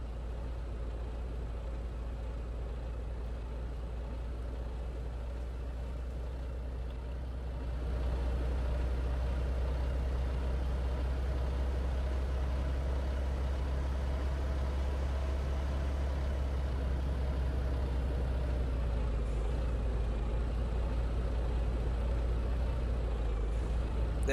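A truck engine idling and rumbling in the game Farming Simulator 19, a steady low drone that gets slightly louder after a few seconds and keeps running throughout, with no talking.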